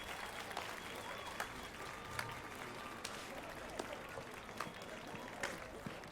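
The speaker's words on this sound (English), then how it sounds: "Round of applause." Crowd applause in the video game The Witcher 3, a quiet, steady patter of clapping with a few sharper claps standing out, lasting the whole stretch at low volume.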